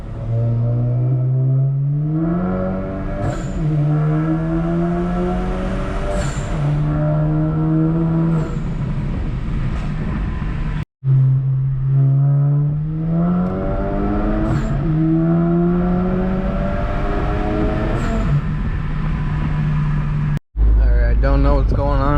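A tuned manual VW Mk8 GTI, Stage 2 on E85 by 034, pulls hard in second gear from inside the cabin. The loud engine note climbs steadily in pitch through repeated runs, broken by brief cuts between pulls.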